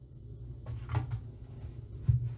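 A cardboard flap on a Criterion Collection box set of The World of Wong Kar Wai is pulled open, giving a soft, close papery rustle and a dull thump, quiet against low room noise.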